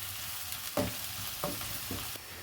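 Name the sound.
chopped onion frying in oil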